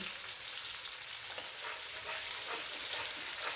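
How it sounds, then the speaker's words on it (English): Onions fry in hot oil in a pan for beef keema, a steady close-up sizzle with a bright crackle and light scraping as they are kept moving. "so we have to keep moving onion so it's not going to be red"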